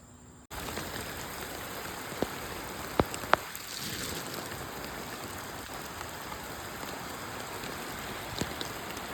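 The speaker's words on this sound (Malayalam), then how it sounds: "അത്യാവശ്യം നല്ല മഴ പെയ്തുകൊണ്ടിരിക്കുന്നുണ്ട്" Heavy rain falls steadily during a fishing outing near Paloor, a dense, constant wash of drops with a few sharp knocks close by and no voices.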